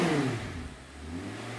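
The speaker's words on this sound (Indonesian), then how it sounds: "Kita dengerin nih gimana suara geberannya 10 silinder ini." A used Audi R8 supercar with a 5200 cc ten-cylinder engine revs up and then settles, its smooth low roar falling away steadily and continuing as a sustained hum.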